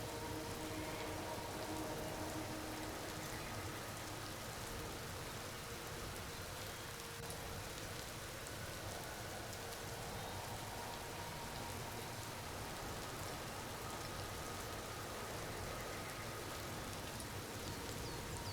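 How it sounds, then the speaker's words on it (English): Steady rain falls in the video game Empyrion, a dense, even hiss of drops on surfaces that carries on unbroken and fairly loud with no voices. "it's not a sealed unit and it will rain on you inside"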